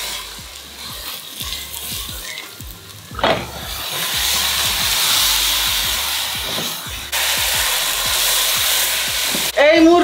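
Chicken pieces hit a pan of hot oil with biryani masala, sending up a loud sizzle that swells and stays steady, with stirring knocks and scrapes throughout.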